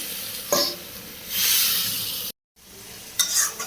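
Spices sauté in a hot pan with loud, close sizzling that swells and fades as they are stirred, broken by a short silent gap before the hiss returns.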